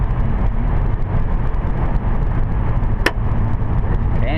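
A car passes on a road at night, heard from inside a moving vehicle as a steady loud road rumble with a brief swell as it goes by.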